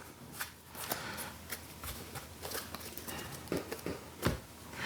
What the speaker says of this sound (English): So then you pull something out, shuffle it back, and then you're good.